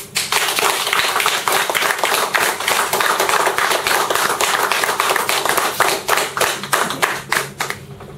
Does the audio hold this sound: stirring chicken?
no